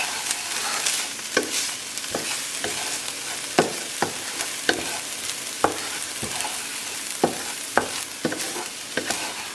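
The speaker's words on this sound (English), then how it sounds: "And then we're going to stir this all together." Pork belly and potato dumpling filling seasoned with white pepper being stirred in a hot pan, a steady close sizzle broken by irregular sharp scrapes and clacks of the spoon against the pan.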